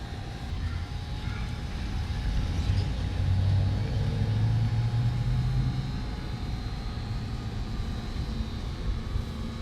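A DJI drone climbs steadily outdoors, its motors giving a continuous droning whir with a low rumble that holds at a fairly even level throughout, with no voices.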